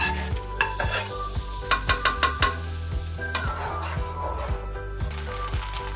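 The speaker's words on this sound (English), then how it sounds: "So now I will just be adding the garlic mix that we've been working on." A garlic mix added to molokhia on the stove brings a steady sizzle and frying hiss. Spoon taps and scrapes run against the pan in quick irregular bursts, loud and close.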